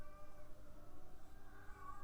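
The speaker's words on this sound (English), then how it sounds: "There's a crazy cat that lives near here. I don't know if you could hear it." A cat meows outdoors near a residential spot, a faint, drawn-out tonal call held under a steady background hum, with no one speaking over it.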